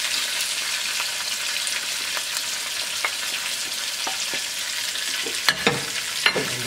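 Curry leaves and dried chili sizzle in hot oil in a pan for sambar, a steady close frying hiss broken by light stirring clicks and a few sharp pops near the end.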